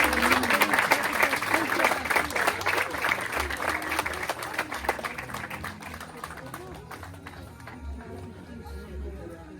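A crowd at an Umrah departure ceremony conference breaks into loud, dense applause that gradually thins and softens, with voices and murmuring chatter rising underneath as it dies away.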